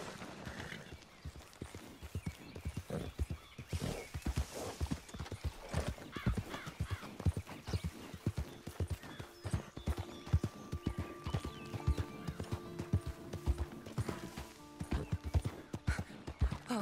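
Horse hooves clip-clopping in Red Dead Redemption 2, a steady, close rhythmic walk that runs throughout, with an occasional whinny and a faint voice underneath.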